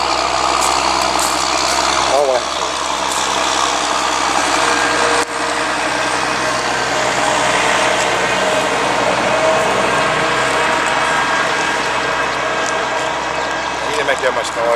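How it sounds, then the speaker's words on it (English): A big tractor rolls past a garden, its heavy diesel engine droning steadily and fairly close for several seconds, with a person briefly speaking over the noise. "We got a big tractor coming."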